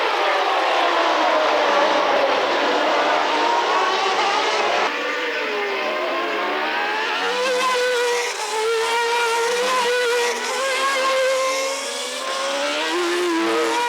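Formula One race cars screaming past during a late-1980s race, high-pitched engine whines rising and falling in overlapping sweeps, loud and continuous with several cars in quick succession.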